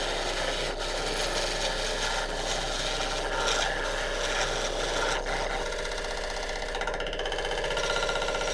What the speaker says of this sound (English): So I'm going to quickly sharpen up again and then have another pass.